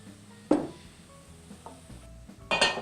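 Cabernet wine sauce in a pan with clanks of pan or utensil contact and stirring scrapes at about half a second and again near the end, over a quiet, low simmering background.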